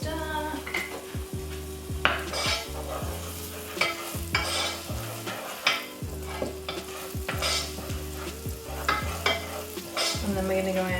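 Garlic and herbs frying in a pan while being stirred quickly, with a steady sizzle and repeated scraping of a utensil against the pan, close and fairly even throughout.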